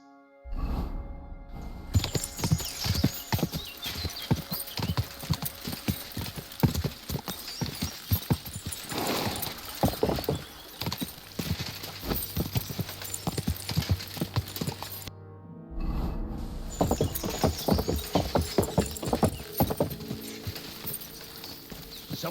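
A horse's hooves clip-clop steadily in the video game Kingdom Come: Deliverance II, a close, rhythmic stream of hoofbeats lasting throughout, briefly cutting out once midway.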